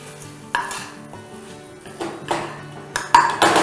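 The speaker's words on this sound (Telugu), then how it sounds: "కొంచెం ఆయిల్ బయటకు వచ్చేంత వరకు అలా మిక్స్ చేసుకొని, సో అలా కరివేపాకు కూడా టాస్ చేసుకొని" Sauce with curry leaves tossed and stirred in a pan for Egg 65, with loud scraping bursts of utensil on metal and occasional bright clinks over a low, steady sizzle.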